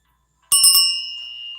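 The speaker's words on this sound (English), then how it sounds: "I'm gonna ring the bell." A hand bell rung a few quick times, bright metallic strikes with sustained ringing tones that linger and slowly fade, close and clear with no voices.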